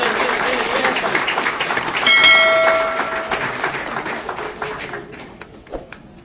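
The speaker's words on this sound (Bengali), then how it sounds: "জোরে হাততালি।" Loud applause fills a room at a grand birthday celebration arranged by management for a sir, a dense crowd clapping mixed with chatter and a sustained ringing tone partway through, then thinning out.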